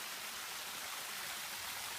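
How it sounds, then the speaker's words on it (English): A three-stage waterfall about 60 feet tall flows behind trees and brush, giving a steady, faint hiss of rushing water without pause, alone without talk. "behind sort of these trees and brush that you see here, the waterfall continues on"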